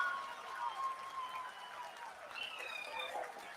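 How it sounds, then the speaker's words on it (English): A crowd applauding at an ISRO space mission event while waiting on a lander module. Broad, steady clapping fills the room at moderate volume, with whistle-like tones and voices mixed in. "People are applauding."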